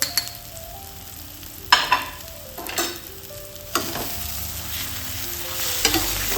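Spice paste fries in a pan for a boal fish curry, a low continuous sizzle broken by several loud scraping stirs of a spatula, close up, with faint tonal hum in the background and no talking.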